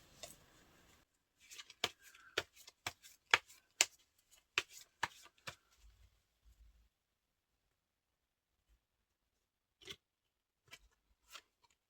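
Tarot cards being shuffled and handled: a quick run of crisp, papery snaps and taps in the first half, then a few isolated soft clicks after a pause, close and quiet with no talking.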